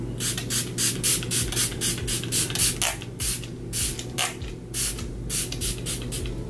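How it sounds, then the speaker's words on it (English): Repeated short hissing spray bursts of Smashbox Photo Finish Primer Water misted onto a face, roughly a dozen in quick irregular succession, close and fairly loud over a low steady hum. "just spray it in my face"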